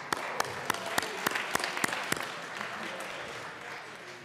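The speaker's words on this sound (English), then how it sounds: "let's give them a round of applause." Sparse, distinct claps ring out in a legislative chamber as lawmakers welcome a visiting group of K-12 students, a scattering of near hand claps over a thin room hum, trailing off after about two seconds.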